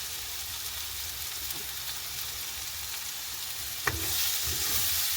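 Masala frying in a pan as coconut is stirred in, a soft continuous sizzle close by with a sharp scrape of the spoon partway through before the frying noise thickens.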